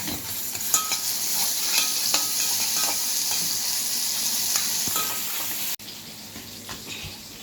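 Crushed garlic and coriander fry in a few spoonfuls of hot oil for a tomato sauce, giving a steady, close, crackling sizzle with stirring that drops off sharply near the end.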